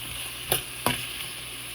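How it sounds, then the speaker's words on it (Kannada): Onions fry in a pan with a steady close sizzle, and two quick stirring scrapes cut through partway, with no talking. "ಇದು ಚೆನ್ನಾಗಿ ಫ್ರೈ ಆಗಬೇಕು."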